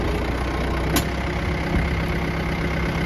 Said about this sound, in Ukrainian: Дуже хороший трактор, дуже хороша рівна робота двигуна.